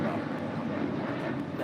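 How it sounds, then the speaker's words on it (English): A 22-year-old Alaska Airlines Boeing 737-900 without winglets departs LAX for Los Cabos, a brief, steady jet rumble with a light wind-like hiss and speech faintly mixed in. "This is Alaska Airlines Flight 1388 departing to Los Cabos on a 22-year-old 737-900."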